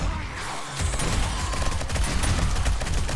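Dense gunfire in 7 Days to Die during a horde fight, a loud rapid stream of shots running almost unbroken after a brief pause, with no talk over it.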